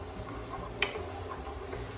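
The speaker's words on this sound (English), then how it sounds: "See, that's just frying in there." Chili sizzles and fries in a pan as a risotto base, a steady close sizzle with a sharp utensil tap or two.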